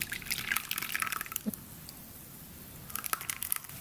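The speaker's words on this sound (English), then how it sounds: "we can go ahead and pour our filling inside the pie crust" Egg custard pie filling poured into a pie crust, with close wet dripping and glugging in bursts at the start and near the end, quieter in between and without speech.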